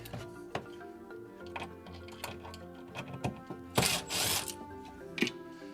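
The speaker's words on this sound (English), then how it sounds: "which just takes a screwdriver real quick. I'm just moving the bottom screw off the slide." A screwdriver backs a screw out of a closet shelf slide, giving a run of small, close ticks and clicks with a brief scraping burst near the end.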